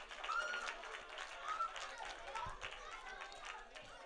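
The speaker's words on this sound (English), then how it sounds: "Give her a round of applause for trying." Light applause from an event audience at a birthday celebration for a child who tried to answer, with scattered clapping and crowd murmur running steadily over the few seconds.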